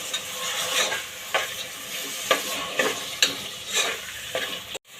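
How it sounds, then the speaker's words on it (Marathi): Soaked whole masoor lentils are stirred into a sizzling onion-tomato masala in a pan, with a steady frying hiss and regular scraping spoon strokes roughly once a second, close and clear, with no talking. "आता त्यात आपण हे भिजून घेतलेला जो अख्खा मसूर आहे तो घालूयात आणि तोही छान परतून घेऊया"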